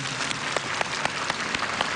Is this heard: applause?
yes